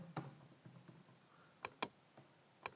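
Sparse keystrokes on a computer keyboard while editing a GDevelop game: a soft clatter early on, then three sharp, isolated clicks spaced apart, quiet and close, with no talking.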